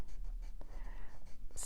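A Daniel Smith hematite watercolour stick drawn dry straight across paper gives a quiet, close, papery scratching in repeated short strokes against a faint background hiss.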